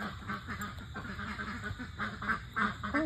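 A group of ducks quacking close by, overlapping nasal calls in an uneven chorus with a louder quack near the end.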